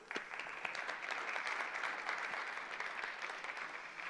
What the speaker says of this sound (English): Let's have a round of applause for OMB.